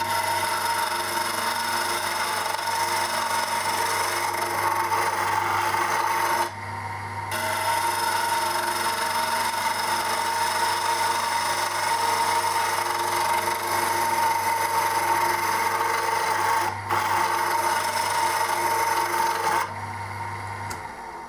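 A woodturning tool scrapes and cuts a spinning piece of wood on a lathe, giving a continuous steady rasping hiss over the lathe's motor hum, with two brief pauses as the tool lifts off the work.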